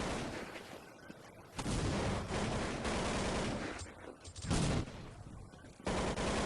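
Rapid gunfire bursts crackle in Counter-Strike 1.6 during a competitive IEM 2008 match on a map, several loud volleys spaced across the clip over a steady game din, with a commentator's voice faintly present.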